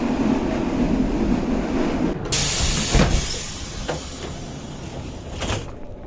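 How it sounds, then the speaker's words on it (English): An old, worn-out Soviet passenger train rumbles and rattles along the track in Montenegro, a steady loud noise with a few sharp clanks and a door-like swish partway through. "Wow, it's a knackered Soviet train."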